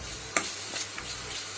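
Mung dal frying with spices in a pan for a village-style cauliflower sabji gives a soft, steady sizzle and stirring noise, with one sharp click early on.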